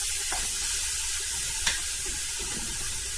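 Onions frying in a pan as the base for a sweet-and-savoury Algerian prune tagine, giving a steady, soft, broadband sizzle throughout with no talking.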